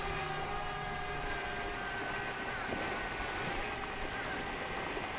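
DJI Mavic Mini drone taking off and flying: a steady, high buzzing hum of small propellers that stays even throughout, with faint wind and some talk mixed in.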